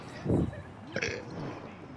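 A person lets out a loud, deep, drawn-out burp close to the microphone, followed by a shorter second burp-like sound, while other people talk in the background.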